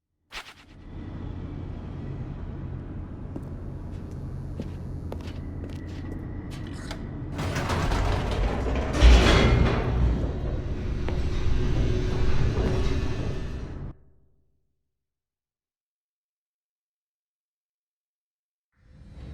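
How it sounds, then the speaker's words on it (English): An elevator descends in the video game The Stanley Parable, a long mechanical creaking rumble that swells with a clunk midway, continues grinding, then stops abruptly into silence. "The elevator raced downward, plummeting towards an unknown fate."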